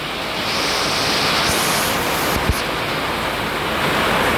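A dense, loud, continuous roar of heavy rain, steady and close, with no voices heard.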